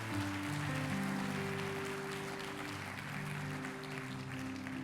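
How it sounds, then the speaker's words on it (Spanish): Congregation in a church applauding together, a steady wash of clapping that holds for several seconds under sustained organ or keyboard tones, fairly distant and soft. "Dele un fuerte aplauso al Señor en esta mañana."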